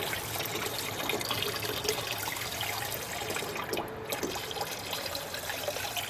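A steady, smooth trickle of motor oil draining from a 2010 Ford Escape 3.0L engine after an engine flush, pouring out in a continuous thin stream, with a faint splashing texture throughout.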